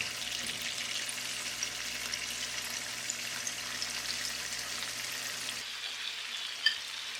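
Chicken fries in about three tablespoons of melted butter in a pan, giving a steady close hiss and crackle of sizzling with no talk, ending with a small clink.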